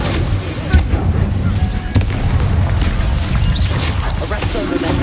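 An Incendio fire spell cast in the Hogwarts Legacy video game, a loud dense whoosh and crackle of magical flame with booming impacts layered over game sound and speech.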